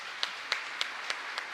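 A church congregation applauds at Mass in Asunción, giving a sparse, even run of about five soft claps against a diffuse wash of scattered clapping.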